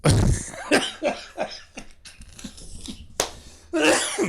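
A string of dry, close coughs and throat-clearing bursts, irregular and loud, separated by short quiet gaps.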